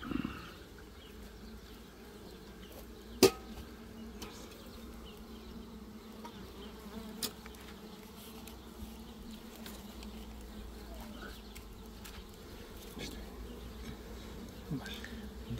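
Honey bees buzzing steadily inside an open hive as a beekeeper arranges frames while adding a second story, a low continuous hum with a couple of sharp knocks.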